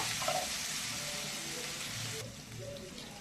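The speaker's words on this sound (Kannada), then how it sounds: "ಈರುಳ್ಳಿ ಹಾಕೊಂಡು ಚೆನ್ನಾಗಿ ಬಾಡಿಸ್ಕೊಳ್ಳೋಣ, ಗೋಲ್ಡನ್ ಬ್ರೌನ್ ಆಗೋವರೆಗೂ." Onions frying in a pan toward golden brown for hotel-style chicken chaps, a steady broadband sizzle running throughout at moderate level, with faint stirring scrapes and no talk.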